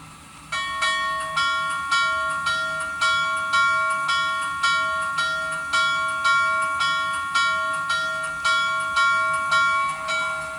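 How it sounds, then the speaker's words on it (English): A bright, metallic model train locomotive bell rings steadily and repeatedly, a clear chime about twice per second, close and alone with a faint hum underneath. "simply press button 1 to ring the bell"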